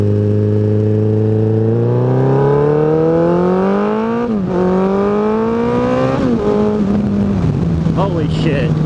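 A 2014 Suzuki Hayabusa GSX1300R's engine pulls hard while riding, its loud tone climbing steadily through the revs, dipping briefly at each gear change and then rising again close up.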